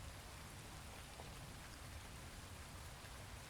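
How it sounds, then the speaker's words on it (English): Steady rain falls through the night, a soft, even hiss of drops on surfaces that continues without a break. "The rain is still falling."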